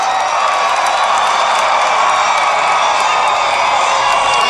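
A 30,000-strong crowd at a Trump rally in Madison, Alabama keeps up a steady, dense roar of cheering and whooping, broad and continuous with no breaks and no clear speech.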